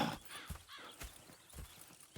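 Horse hooves clop on the ground in Red Dead Redemption 2, with a few uneven, fairly close steps spaced out across the moment and a faint neigh-like cry near the start.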